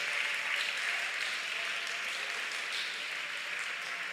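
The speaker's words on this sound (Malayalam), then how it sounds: "ഒന്ന് കൈയടിച്ച് ശക്തിയോടെ ദൈവത്തെ ആരാധിച്ചേ." A congregation claps in worship during a Malayalam Christian service, producing a steady, dense wash of many hands at full volume throughout, with no talking heard over it.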